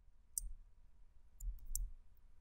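A few faint, sharp clicks of keys on a computer keyboard, sparse and irregular over a quiet room hum.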